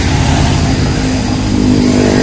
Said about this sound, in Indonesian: Oh ini ada pengendara motor gede